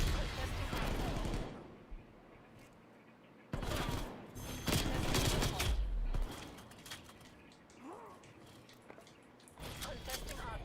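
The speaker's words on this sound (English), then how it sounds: "You see where the gunshots are coming from?" Bursts of gunfire in a hardpoint-mode video game rattle in several loud clusters with quieter gaps between them, while people talk over the action.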